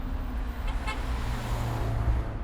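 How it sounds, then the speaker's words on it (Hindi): A car horn honks in a road-rage scene between two drivers: two brief, faint toots rise out of steady traffic and engine rumble, with no talking. "वो हॉर्न पर हॉर्न दिए जा रहा है"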